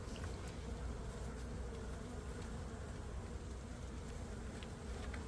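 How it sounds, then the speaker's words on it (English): Honeybees buzz steadily at a beehive, a dense, continuous hum of many insects close by and fairly faint, with no voices. "Is that a drone? I think that is a drone."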